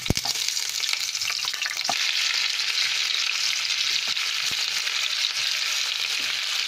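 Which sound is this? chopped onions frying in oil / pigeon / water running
chopped onions frying in oil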